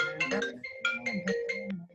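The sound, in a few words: phone ringing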